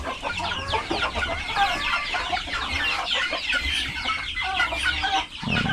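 Chickens cluck on a farm in a dense, continuous chorus of overlapping clucks and calls close by, with steady background noise throughout.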